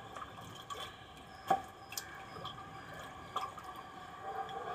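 Asafoetida solution stirred into 10 litres of water in a container, with faint, scattered drips and small splashes over a soft, steady wash of liquid movement.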